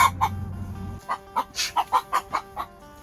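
Chickens cluck close by in a vegetable garden in New Zealand, a series of short, evenly spaced clucks after a low rumble fades, clear and alone.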